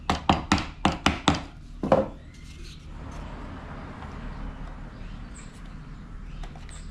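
Wooden drop box pieces, laser cut, being tapped into place: about seven sharp close knocks in quick rhythm, then quiet room ambience.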